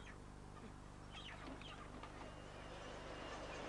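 Chickens cluck and squawk in an industrial poultry setting, overlapping calls from many birds over a dense, constant background roar.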